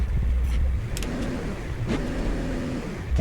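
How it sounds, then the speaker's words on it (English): A Jeep engine labors uphill in second gear, a loud, close, steady drone with rough low-end rumble throughout and brief clunks at a few points. "Let me pass up my Jeep. Come on, Jeep. You got it? Yeah, second gear."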